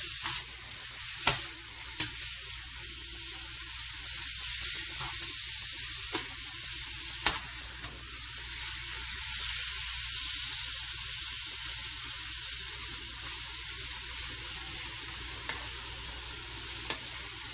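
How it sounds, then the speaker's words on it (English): Pesto alfredo sauce stirred constantly in a hot pan with chicken, a loud continuous sizzle and hiss broken by a few scraping knocks of the utensil, no voices. "So you want to constantly stir it as you put it in."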